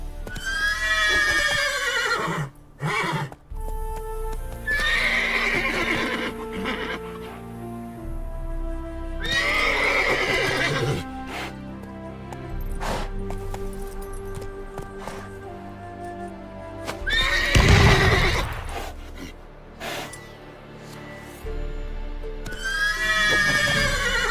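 Roach, Geralt's horse in The Witcher 3, neighs and whinnies in several loud bursts, with hooves clip-clopping and shuffling between them and faint game ambience underneath.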